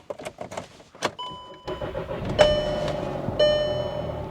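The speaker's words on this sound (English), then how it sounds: "Now it's finally time to start up the Jetta and see how she runs." A few clicks and clunks, then a Volkswagen Jetta's engine cranks and catches on its first startup, settling into a steady idle close by.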